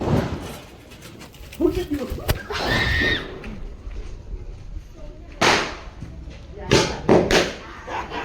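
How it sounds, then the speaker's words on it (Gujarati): Several sharp sky shot firecracker bangs pop and crack inside a tin box in quick bursts with a metallic, rattling edge, interspersed with excited shouting voices nearby at Diwali. "સ્કાય શોટ ને ડબ્બામાં ફોડ્યા."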